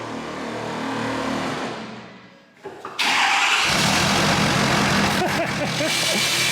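A 6.7-liter Powerstroke diesel engine in a 1968 truck idles, dips quiet for a moment, then roars up into a loud, sustained rev that holds steady and close.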